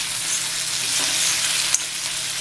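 Onion and tomato sizzling and frying in a pan for prawn masala, a steady close hiss of oil with faint stirring and one brief clink, no talking.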